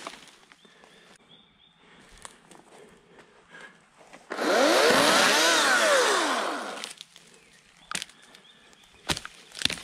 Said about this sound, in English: I was sawing down some pretty big trees